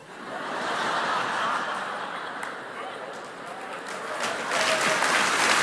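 Audience applause breaks out during a church sermon, a steady crowd clapping that holds throughout, swelling slightly toward the end, with scattered chuckles mixed in.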